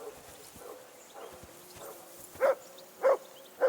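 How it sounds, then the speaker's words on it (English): The dog Mutt in the game Kingdom Come Deliverance 2 gives three sharp, fairly close barks at regular intervals near the end, after a stretch of quiet ambient background. "that barking's driving me nuts. Can you get your dog to shut its beak?"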